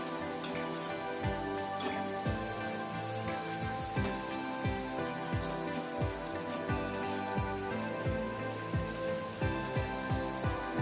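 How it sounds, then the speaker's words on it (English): Roti nachos fry in hot oil over a medium-to-high flame, giving a soft, steady sizzle with scattered crackles under quiet rhythmic background music. "We'll fry the nachos till it become little brown, light brown in color."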